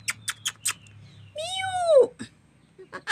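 Newborn kittens, eyes not yet open, give a drawn-out rising and falling meow while being lifted, with soft cooing and brief talk around it, close and fairly quiet.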